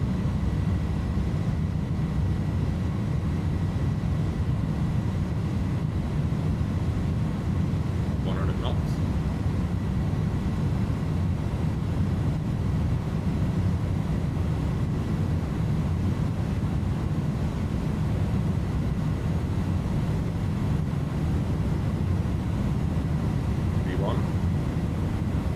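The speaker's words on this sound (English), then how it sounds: "Takeoff thrust set, indications normal." An airliner's jet engines at takeoff thrust make a steady, loud, unbroken roar with a faint whine on top, constant from start to finish without buildup or fading.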